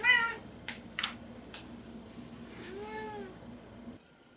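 A house cat meows insistently at dinner time, several harmonic meows in quick succession near the start and a longer rising-falling meow around the middle, close and clear over a low steady hum that cuts out at the end.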